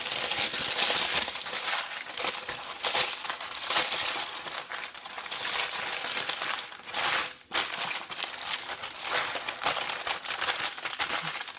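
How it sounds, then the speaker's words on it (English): Parchment paper is crinkled and crushed continuously up close to fit a cake pan, a dense crackling rustle that barely pauses for several seconds. "I've got parchment paper that I'm going to crumple up and fit it into this"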